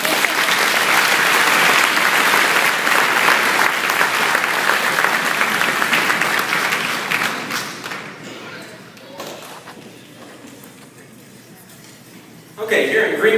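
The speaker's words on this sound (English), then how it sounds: "Give them a round of applause." Audience applause at a middle school band awards night, loud sustained clapping from a crowd that fades out gradually, with a few scattered claps and a burst of sound returning at the end.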